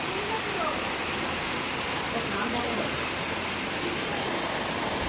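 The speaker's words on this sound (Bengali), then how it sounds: "হচ্ছে মুষলধারায় বৃষ্টি, দেখো কি বৃষ্টি হচ্ছে" Heavy downpour pouring steadily outside a home, a dense continuous hiss of rain without pause, fairly loud and close throughout.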